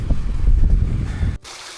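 Waterfalls and a stream pour into pools along a high-level Coast to Coast walking route in the Lake District hills, giving a steady, loud, close rush of water that cuts off abruptly to a quieter hiss.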